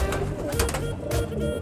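A rare fancy pigeon, part of a flock of pigeons for sale, coos softly in a brief, low throaty call, close by against a steady background murmur.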